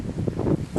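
Outdoor wind buffeting a microphone at a school in Africa, a low rumbling roar with gusty surges that swell and fade, loud and close throughout the short moment.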